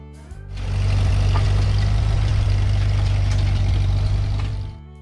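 A Ford 8N tractor engine idles steadily, a loud low rumble that rises in after a brief start and holds evenly before fading near the end, with no voices.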